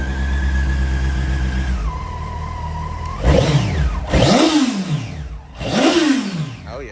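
A Hornet minitruck's small engine catches after idling low, then revs up and down in three rising and falling surges, loud and close with no talking.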